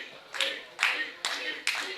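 Crowd at a pro wrestling show chanting in a steady rhythm, four loud clap-backed beats spaced evenly, the voices blending into a roaring unison.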